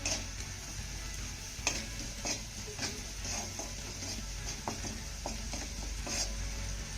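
Sautéed ingredients seasoned with turmeric and salt are stirred in a pan. A spoon scrapes and clicks at irregular moments over a faint, steady sizzle.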